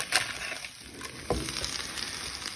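Steady sizzling and crackling of food frying in a covered pan with cheese sprinkled on top, with a brief clatter partway through; no voices.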